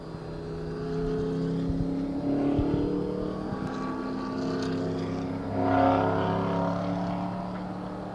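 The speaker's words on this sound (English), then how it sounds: "The cars from Carrera Motors are lining up in the pit lane to take folks on their last chance hot laps around PIR." Sports cars from Carrera Motors idle and rev in the pit lane at Portland International Raceway before hot laps, a steady engine drone with a few throttle swells and one louder rise near the end, heard at moderate distance.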